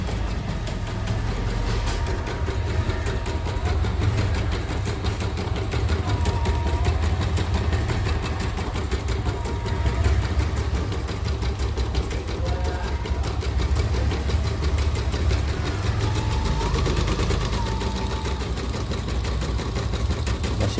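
Steady, continuous mechanical whirring and rapid rhythmic clatter from an embroidery machine under repair, running without pause for about twenty seconds at close range and fairly loud, with no voices.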